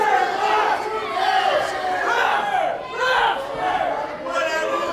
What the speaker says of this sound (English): The crowd definitely not approving of Brian Cruz